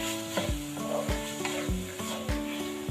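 Green beans with egg frying in a pan, a continuous sizzle over a regular rhythm of utensil scrapes and knocks about every half second as they are stirred, with no voices.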